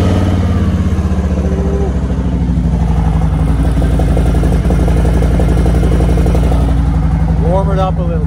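A Harley-Davidson motorcycle engine idles close by, a loud, steady, even rumble with a rapid pulsing thump that holds unchanged throughout, with a brief higher tone near the end.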